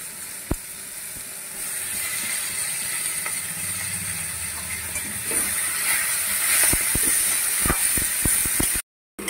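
Malabar spinach goes into a hot pan of fried taro, giving a steady sizzling hiss with scattered clicks and knocks of utensils against the pan, close and continuous.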